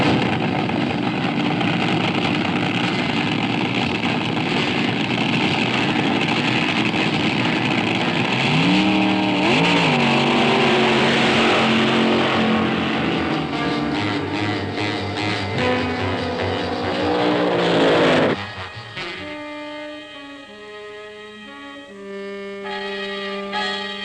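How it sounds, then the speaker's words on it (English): 1965 drag racing cars roar loudly down the drag strip, engines revving with rising pitch sweeps before the sound cuts to a quieter, steadier drone near the end. "Cars run down the drag strip every 28 to 34 seconds."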